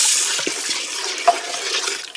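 About one and a half cups of water poured into a pressure cooker, a steady close splashing pour with a soft bubbling gurgle, alone without speech.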